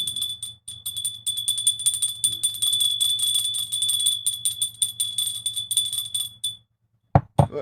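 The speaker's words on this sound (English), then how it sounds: "We got to ring the bell." Doorbell or alarm-style bell ringing continuously and fairly loud for about six and a half seconds as a steady high electronic tone, then cutting off, followed by a brief thump.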